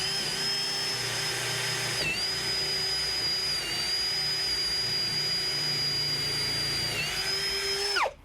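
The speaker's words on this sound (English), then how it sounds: "I'm just going to drill a hole in the middle of each one of these" A power drill whines steadily at high speed while drilling a 3/8-inch hole in wood, dipping in pitch briefly as the bit bites in, then winding down at the end.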